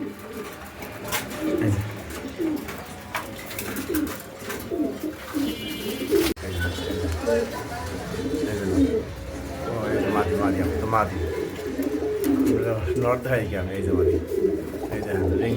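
Pigeons coo in soft, repeated rolling calls at close range, partly masked by someone talking steadily over them.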